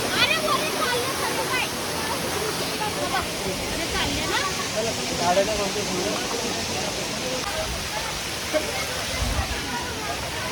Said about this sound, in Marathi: पूर्ण प्रेशरने वरून पाणी येते खाली.